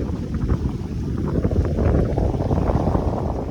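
A sailboat heading under sail for a bridge, steady rushing wind buffeting the microphone with gusts and water noise, loud and continuous.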